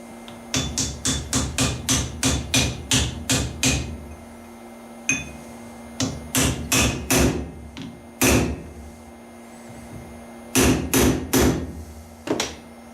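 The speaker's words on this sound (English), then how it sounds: "we're going to press or hammer in the nut into the pipe" Sharp metallic hammer strikes ring out as a nut is hammered into a pipe on an anvil: a rapid run of a dozen blows, then scattered groups of heavier hits with short pauses between.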